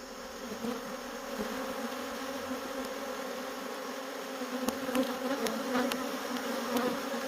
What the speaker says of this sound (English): every one of these frames is packed full of bees